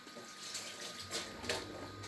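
Tap water runs steadily into a kitchen sink for hand washing during home cooking of meat and vegetable samosas, a continuous hiss with slight surges near the end, close and alone.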